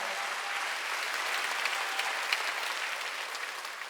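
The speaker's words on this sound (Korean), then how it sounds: "박수 하세요." A church congregation breaks into dense, continuous applause that holds steady and fairly loud throughout, with many hands blending into a broad wash of sound.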